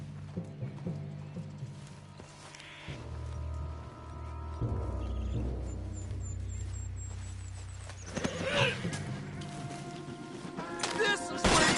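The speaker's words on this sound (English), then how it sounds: "What's got this horse spook" Spooked horse in the Red Dead Redemption 2 video game, with hooves clip-clopping, a whinny and snorts over a low game ambience, plus sharp bursts that may be gunfire later on.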